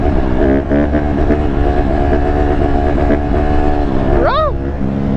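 A new Honda CRF150RB dirt bike pulls in fifth gear. The loud, buzzing engine drone holds steady with harmonic whine and wind, and a brief rising pitch sweep comes near the end.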